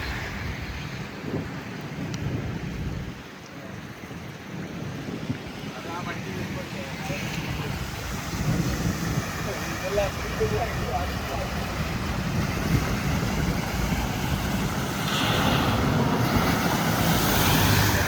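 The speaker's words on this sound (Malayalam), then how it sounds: "ഇന്ന് നല്ല മഴയാണ് 2-3 ദിവസമായി ഭയങ്കര മഴ" Heavy rain pouring down in the Gulf after several days of downpour, a dense, steady hiss of water close by that continues throughout, with muffled voices now and then underneath.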